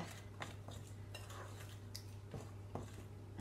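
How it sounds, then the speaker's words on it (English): A large metal tablespoon stirs lemon drizzle loaf batter in a bowl, giving close, intermittent clinks and soft scrapes against a quiet background. "just mix it in with a large metal spoon, a tablespoon, get it all well mixed together"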